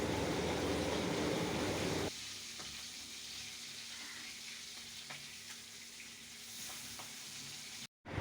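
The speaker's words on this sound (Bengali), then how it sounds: "এরপর মাছগুলো পাল্টে দিচ্ছে।" Pangas fish fry in a covered pan with a loud, dense sizzle that drops to a softer, steady crackle after about two seconds. A brief silence comes near the end.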